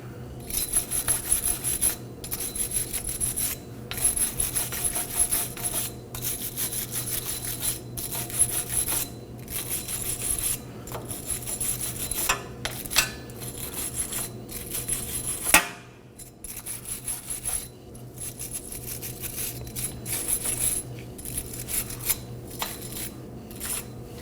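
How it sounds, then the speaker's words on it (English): A wire brush scrubs debris off the front brake hub of a 2015-2023 Nissan Maxima, with steady close rasping strokes repeating in quick rhythmic bursts and brief pauses between passes. "Now clean away any debris with a wire brush."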